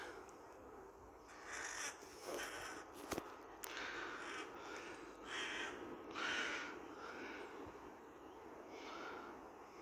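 A crow caws several times from somewhere up above in an old part of Northallerton Cemetery in North Yorkshire, England, the calls fairly faint and spread across a quiet outdoor background.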